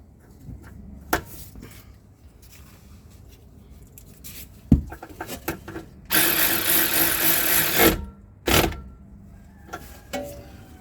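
Ratchet fastening a ride height sensor on a 2005 Lexus RX330 during control arm replacement: a few short clicking bursts and one longer sustained ratcheting run, close and fairly loud, with no talking.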